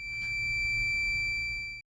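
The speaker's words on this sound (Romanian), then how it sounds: "Emite sunete înalte de tip bip până când este oprit." A wireless GSM alarm system in siren mode sounds a steady, loud, high-pitched electronic tone that holds without pause for nearly two seconds before cutting off abruptly.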